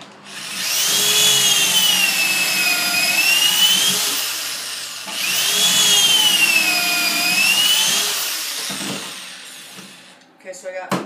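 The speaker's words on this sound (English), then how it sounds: "Okay, so I got these 4 drilled." A power drill bores holes into unusually hard wood for a small chest: two long, whining drilling passes of about four seconds each, rising and falling in pitch, then a short clatter at the end.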